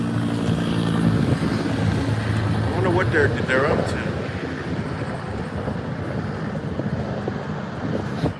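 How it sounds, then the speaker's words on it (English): A state police helicopter's rotor drones overhead with gusty wind noise while someone speaks briefly over it. "This chopper's still flying around."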